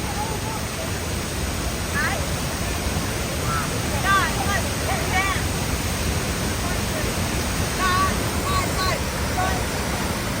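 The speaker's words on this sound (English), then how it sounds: "What an amazing waterfall." Tegenungan waterfall in Bali gives a steady, dense rush of falling water throughout, with people chatting and calling out faintly over it.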